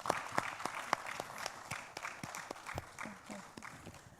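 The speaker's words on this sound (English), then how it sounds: "Clap for you." Scattered, thin applause from a small forum audience at a conflict prevention and peace event, individual claps distinct and uneven, fading somewhat toward the end.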